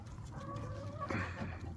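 A naked neck rooster gives a short series of low clucks and a brief throaty call, close by, over a faint background hum.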